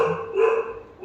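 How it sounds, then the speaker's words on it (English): A dog barks somewhere in the background, a single muffled bark rising briefly out of a steady hum, fairly faint and distant. "I think you might be hearing some barking in the background."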